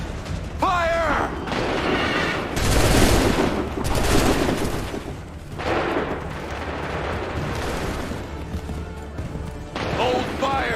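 Musket volleys crack in Assassin's Creed III, a battlefield of massed gunfire with repeated heavy bursts and rolling reports over several seconds, mixed with shouted voices and the clatter of battle.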